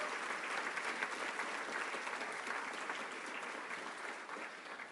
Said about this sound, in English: let's have a round of applause for Bobby Chesney, Will Imboden, and Steve Slick